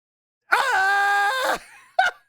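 Guzzlord, an Ultra Beast from a Pokémon game, lets out a loud, sustained, strained scream lasting about a second, followed by a short second cry, heard alone with no talk.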